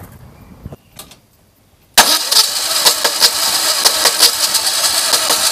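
A Citroën Méhari engine cranks and catches after a few faint clicks, then settles into a loud, close, slightly uneven idle with rattling mechanical ticks.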